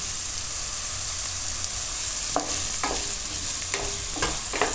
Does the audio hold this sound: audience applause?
no